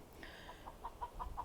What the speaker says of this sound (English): Have a broody chicken who's given everybody a piece of her mind.